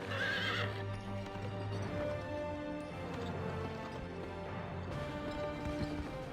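A horse in the video game GUN gallops with rapid rhythmic clip-clop hoofbeats and lets out loud whinnies, close and clear over a faint game soundscape.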